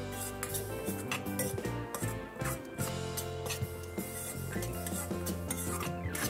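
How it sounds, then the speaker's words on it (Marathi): Metal spoon scraping and stirring rice flour into coconut in a pan, an irregular run of clinks and rasps at close range with no talk. "पुन्हा एकदा ते पीठ जे आहे ते याच खोबऱ्यामध्ये आपण सर्व एकत्र करणार आहोत"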